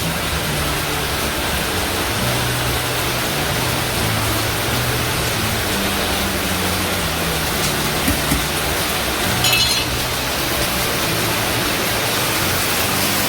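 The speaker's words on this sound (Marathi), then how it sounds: "भरमसाठ पाऊस चालू आहे." Heavy monsoon rain pours down in a dense, unbroken hiss, loud and constant for the whole stretch, with a faint low hum underneath.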